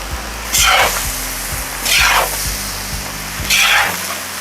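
Chicken and veal liver frying with carrot and onion in a cauldron, giving a steady oily sizzle. Louder hissing surges come about every one and a half seconds over a faint rhythmic ticking, with no voices.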